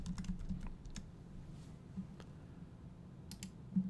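A few faint, sparse keyboard taps as a Photoshop layer name is typed, scattered soft clicks over a low steady hum.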